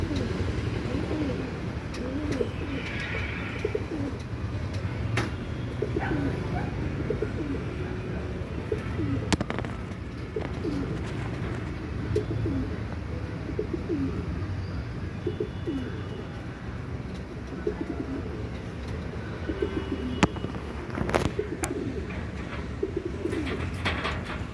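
Pigeons in a breeding pair, male and female, coo repeatedly close by in soft rolling phrases over a busy background of rustling and occasional knocks, with a few short chirps.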